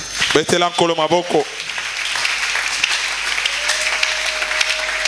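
A church congregation bursts into applause and acclamation after a short spoken phrase, the dense clapping holding steady and fairly loud for several seconds with a faint tone lingering beneath.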